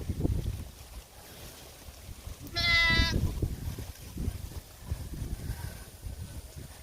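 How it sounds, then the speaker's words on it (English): A little goat bleats once, a wavering cry lasting about half a second, out in a small Philippine village, with wind and low outdoor rumble around it and no talking. "What's wrong with this little goat?"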